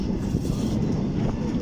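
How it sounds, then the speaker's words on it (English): Inside a train on a morning work commute, a steady low rumble of the train running, continuous and fairly loud, with no speech. "This is the train journey."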